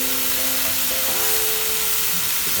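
Oyster mushrooms sauté over a high flame, giving a steady, loud sizzle with faint stirring scrapes and a low background hum throughout, with no voices.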